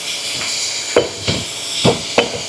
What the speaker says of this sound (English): So I'm just going to use the slide hammer. Probably just pull this a little bit.